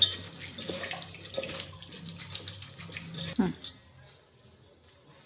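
Sago pearls being rinsed in a bowl of water, with sloshing and swirling splashes through the first few seconds, a brief louder splash near the middle, then quieting; a voice talks underneath.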